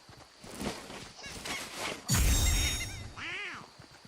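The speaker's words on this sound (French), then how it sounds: "Canard!" A duck in a French-language shooter video game gives a short honking, warbling call near the end, following a loud burst of game noise, with quiet voices in the background.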